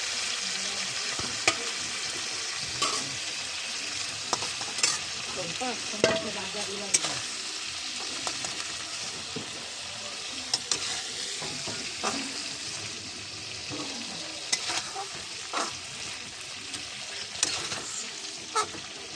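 Food sizzling steadily as it fries in a pan, with repeated sharp clinks and scrapes of stirring scattered through the continuous crackle, close and fairly loud.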